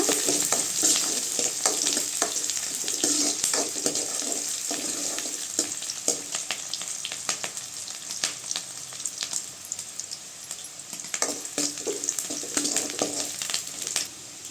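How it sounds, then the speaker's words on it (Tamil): Onions sautéing in a pan with curry leaves for a tamarind okra curry, a continuous close sizzle with frequent spatula scrapes and stirring clicks, moderately loud, without any talking. "வெங்காயம் நல்லா வதங்கட்டுங்க"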